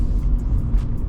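Honda Civic accelerating along a road at night, a steady low engine and road rumble heard from inside the car, loud and continuous with no talking.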